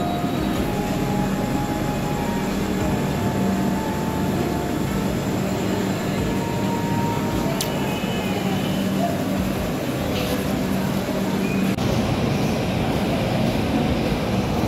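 Express train number 12664 from Tiruchirapalli to Howrah standing at Balasore station, a steady interior hum and rumble of the halted carriage with faint clanks and station noise throughout.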